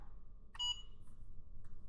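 A timer gives a short electronic beep, then a fainter chirp a second later, both sharp and close over a quiet room hum.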